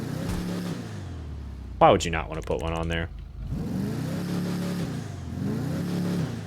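Declasse Impaler SZ fitted with a chrome big bore exhaust in GTA 5, its engine revving up in rising, wavering pulls at moderate volume, with someone talking briefly over a pause between the revs.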